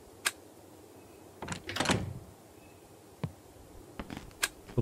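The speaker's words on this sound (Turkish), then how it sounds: "Kapı kilitli tabii ki." A locked door is tried in a horror video game set in a house with a dark past: a few sharp clicks and rattles, then a short cluster of handle jiggling and thuds, followed by scattered faint knocks, with no one talking.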